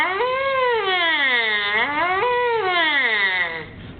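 A trumpet mouthpiece buzzed by the lips to imitate a siren, one sustained tone sweeping up and down in pitch several times, close and clear with no talking.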